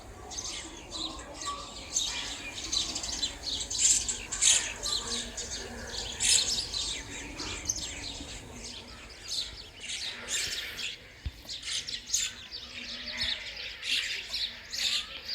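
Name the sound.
small birds chirping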